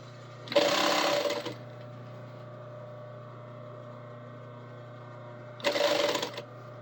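Sewing machine running a standard backstitch through fabric, two short loud bursts of rapid stitching separated by several seconds of a steady low machine hum.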